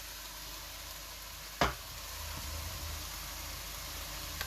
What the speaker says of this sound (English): So you're just going to let these onions cook.